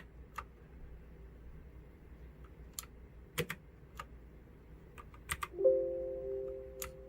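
Keys pressed on a cheap RGB mechanical keyboard: sparse, quiet clicks scattered irregularly over a low hum, ending in a brief soft beep, with no speech.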